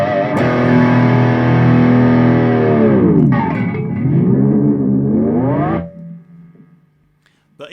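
Mesa Boogie Nomad 45 guitar amp on an ultra high gain setting, a loud sustained distorted chord with wavering tone that cuts off into low electrical hum.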